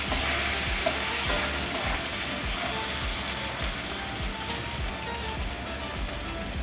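Chopped tomatoes fry in hot oil as the base for a Bengali fish curry, giving a steady, dense sizzle with faint stirring ticks throughout.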